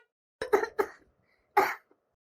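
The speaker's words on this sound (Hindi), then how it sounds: "लगता है माँ खांस रही है, जाग गई है" A few dry coughs from an elderly woman close by in a quiet room, a quick burst of two or three, a pause, then one more.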